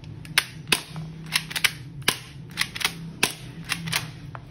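An M11 airsoft toy gun fires plastic bullets in separate sharp snapping shots, about a dozen in irregular quick bursts, close and crisp against a quiet background.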